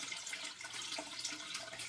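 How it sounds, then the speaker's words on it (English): Water running through an aquarium siphon in a DIY aquaponics setup, a faint, steady rushing trickle that holds throughout without pauses or voices. "There's the siphon starting"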